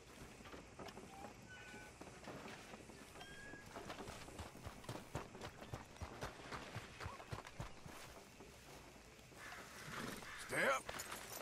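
Horse hooves clip-clopping in the Red Dead Redemption 2 video game on PS5, a steady run of soft hoof beats under game ambience, with a brief louder burst near the end.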